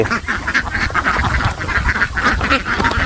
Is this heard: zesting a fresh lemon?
no